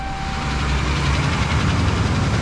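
A Hemi 5.7 V8 truck engine rumbles steadily at idle, a deep continuous drone with a faint whine on top and no talking.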